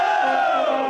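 Palmeiras supporters pour into the streets celebrating a 4-0 title win over Santos, a dense roaring crowd with shouted chants forming one loud, continuous wall of voices.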